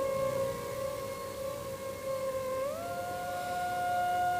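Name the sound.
siren signalling end of work break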